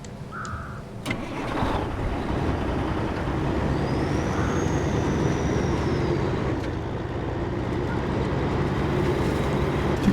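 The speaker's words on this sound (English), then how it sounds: "I think the truck sounds good." Kenworth W990 truck in a driving game: a steady, deep diesel rumble idling and droning continuously, close and even in level, with a brief rising whine partway through.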